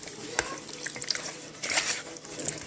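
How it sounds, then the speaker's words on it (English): Pork spare rib pieces are mixed around in a red sauce, making moderate wet stirring and clacking sounds close by, with a few sharper knocks against the bowl. "you're just going to mix that around until all those pork pieces are nice and covered in this red, delicious sauce"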